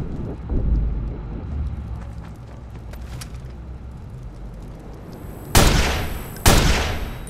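Gunfire rings out in a shootout in the Watch Dogs game, with scattered shots and rumble early on and then two loud, close blasts with ringing decay near the end, with no talk.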